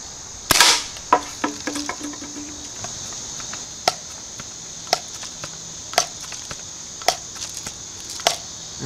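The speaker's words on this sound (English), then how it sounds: "I'm going to shoot again at the bottle, and then maybe I'll come back and shoot that can again." A BB gun fires at a bottle outdoors: one sharp close crack, then a string of lighter ticks and pops at irregular intervals over a steady insect-like hum.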